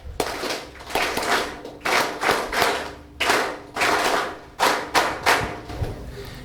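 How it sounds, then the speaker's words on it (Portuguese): A crowd at a political rally in Inhambane claps together in loud, rhythmic bursts, several waves of hand-clapping separated by short pauses, with no talk over it. "Uma forte salva de palmas."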